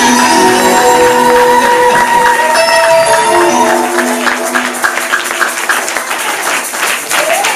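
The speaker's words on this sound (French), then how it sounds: "donnez des acclamations à Jésus" Applause and acclamation from a church congregation at a French-language worship service, loud and sustained, with music tones running underneath and easing slightly toward the end.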